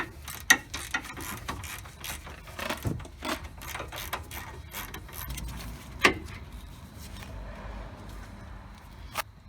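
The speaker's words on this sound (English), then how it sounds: "go ahead and put your two bolts in and tighten those down" Ratchet clicking as caliper bracket bolts are tightened on the rear brakes of a Jeep Wrangler Unlimited, quick bursts of close mechanical clicks with brief pauses, no talk.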